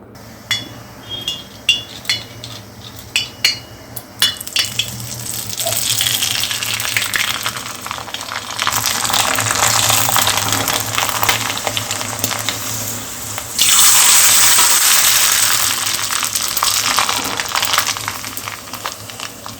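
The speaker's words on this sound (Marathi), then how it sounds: "ह्या ज्या पापड्या तयार केलेल्या आहेत आपण, त्या आता तळून बघणार आहोत." Rice papadi fry in hot oil with a fierce, steady sizzle that swells loud and hissing, rises again partway through, and then eases off, while utensils clink lightly early on.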